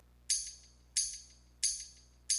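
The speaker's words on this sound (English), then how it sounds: "The shorter delay is gonna be that kind of slapbacky sort of thing." A tambourine hit in Ableton with a short slapback delay repeats in a steady rhythm, four bright, jingly shakes with quick echo tails, clean and alone over a faint low hum.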